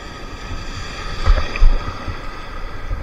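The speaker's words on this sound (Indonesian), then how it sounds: "Dahsyat sekali ombaknya." Big ocean waves rush and rumble as a steady loud wash, with a stronger surge near the middle, under heavy wind noise.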